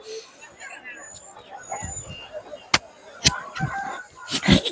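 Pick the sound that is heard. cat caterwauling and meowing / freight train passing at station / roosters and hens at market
roosters and hens at market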